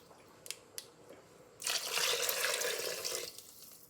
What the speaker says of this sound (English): I'm going to put 3 cups of tap water in.